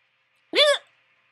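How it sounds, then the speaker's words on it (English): A single sharp hiccup, close and loud, short and voiced, alone against near silence. "with my hiccups."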